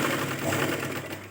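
A sewing machine stitches a seam on a blouse piece, a brief, steady mechanical whir at close range with a fast rattling rhythm, moderately quiet.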